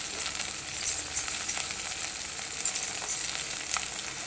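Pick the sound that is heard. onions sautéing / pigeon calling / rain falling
onions sautéing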